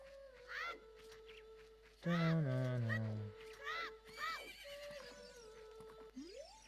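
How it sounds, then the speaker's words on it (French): The horse Epona in the video game Ocarina of Time whinnies repeatedly, high neighing cries over a steady game music drone, with a louder descending honk-like call midway. "On dirait que Poney a peur de toi, monsieur le garçon de la forêt"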